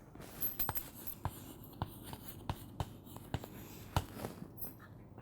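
Chalk or pen writes a word during a spelling lesson, making a series of distinct close taps and scratches in an irregular rhythm, fairly quiet, with no voices.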